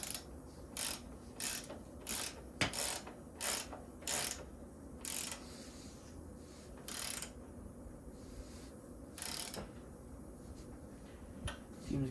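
Ratchet wrench tightening the axle nut on a Kawasaki KE175 motorcycle, a series of short, sharp ratcheting bursts in an uneven rhythm, close and clear against quiet background.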